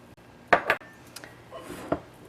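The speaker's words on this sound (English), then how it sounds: "We're going to add about half a cup of chopped walnuts." Chopped walnuts tipped into a bowl for chicken salad make two quick close rattling clatters, followed by softer scattered clinks and taps of kitchenware.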